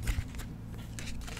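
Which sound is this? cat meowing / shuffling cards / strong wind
shuffling cards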